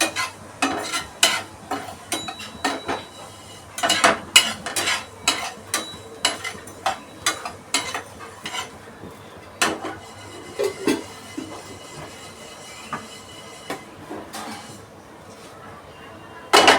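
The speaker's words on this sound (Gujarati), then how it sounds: "હવે આપણે ચોખાને થોડી શેકી નાખીશું।" Rice dry-roasting in a pan while being stirred with a spoon, giving irregular scraping and clinking strokes that come in bursts, fairly close and moderately quiet over a low background hum.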